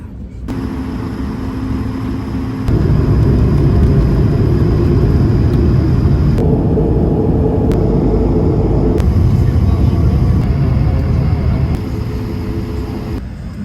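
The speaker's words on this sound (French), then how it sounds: "Ça y est, on vient d'atterrir." Airplane cabin during landing, a loud steady engine roar and low rumble filling the space, swelling in the middle as power rises, with a faint voice murmuring under it.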